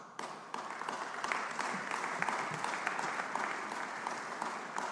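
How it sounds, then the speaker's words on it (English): Steady applause from an audience at a rally on children's nutrition policy, a dense sustained patter of many hands clapping that starts almost at once and holds evenly with no talk over it. "I think we need one more round of applause"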